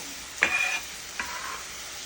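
Tomato tipped into a hot pan of cooking onion gives a sharp hissing burst that fades, followed a moment later by a second, softer sizzle, close and with no talking.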